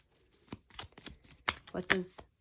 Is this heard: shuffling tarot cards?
yes